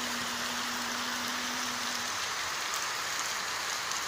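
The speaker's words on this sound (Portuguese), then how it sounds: "escutando o barulho da chuva, que eu adoro" Heavy rain pours down in a dense, steady roar, loud and close without pause, with a faint tonal hum in the first half.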